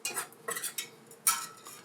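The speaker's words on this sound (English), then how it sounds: "Give that a little bit of a stir." A utensil stirs yeast into 500 grams of pizza flour in a bowl, with a few soft, close scraping and clinking strokes in irregular bursts, quiet and alone.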